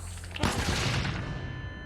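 Explosions and gunfire in the sci-fi shooter Void Bastards erupt in a loud, dense burst that fills the mix and then decays into a rumbling tail, with no talk over it.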